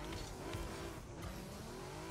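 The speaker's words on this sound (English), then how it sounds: "That engine's pretty loud in it, honestly. It's purr. Yeah, it does purr." A loud, steady car engine in a video game drones continuously with a rough low rumble, holding a constant pitch with slight revving.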